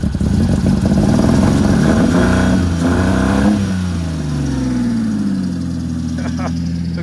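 A diesel car engine at a demolition derby revs loudly with a deep rumble, then falls back to a steady idle, while people talk over it.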